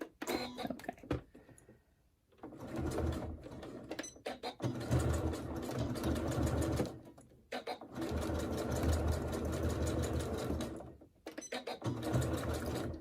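A sewing machine stitches across a fabric crossbody bag, running in sustained loud whirring bursts with brief stops between passes, close up and without talk.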